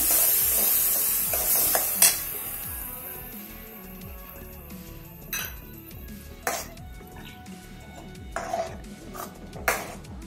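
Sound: sautéing ground spice paste for goat trotter curry

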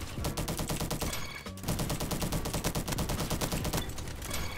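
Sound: gunfire from the Roblox video game Bad Business

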